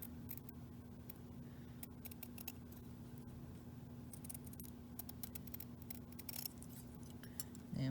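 Scissors snipping steadily around a paper dragonfly pattern for a craft, a continuous close run of small crisp cuts with a faint steady hum underneath.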